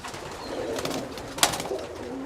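Soft, low cooing of young pigeons in a quiet indoor loft, with a brief sharp flutter or clap midway.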